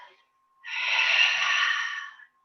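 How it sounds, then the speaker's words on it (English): Ujjayi yoga breath made by narrowing the throat, a single long, hushed, hissing exhale like fogging a mirror, close and isolated after a brief short breath. "it's more like a kind of sound that you would make if you were fogging a mirror"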